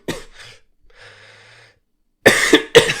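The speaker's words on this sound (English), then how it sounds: "Throws in the token cough to make sure you know he's sick" A few sharp, close coughs from a man who is sick, in two quick bursts after some quiet breathing and faint throat sounds.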